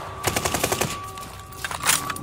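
Machine-gun fire in the Call of Duty: Vanguard campaign, a quick burst of about half a dozen close, sharp shots followed by a pause and another short volley, loud and without speech.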